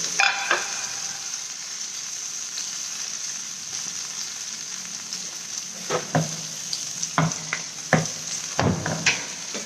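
Meat searing in a hot pan gives a steady, close sizzle of frying fat throughout, with several sharp clacks of a utensil against the pan toward the end.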